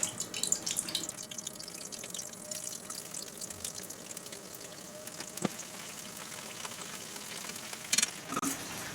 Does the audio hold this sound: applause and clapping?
no